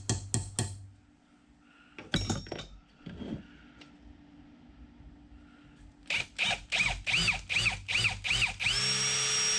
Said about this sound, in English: So I'm just using the tap size drill here so I can tap these holes for the right size grub screw.